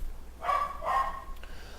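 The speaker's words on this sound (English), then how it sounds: "Sorry for the puppy barking." A puppy yaps twice in quick succession, short high-pitched barks in the background behind a naval battle game.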